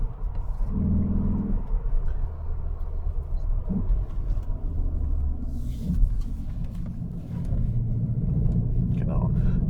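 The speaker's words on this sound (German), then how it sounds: "ein Leon Kombi mit dem 2 Liter rein 4-Zylinder, der 310 nominelle PS leistet" A Cupra Leon estate with a 2-litre, 310 PS four-cylinder, all-wheel drive and a DSG gearbox in sport mode accelerates up the Klausen Pass. A deep, steady engine rumble fills the cabin while a person talks over it throughout.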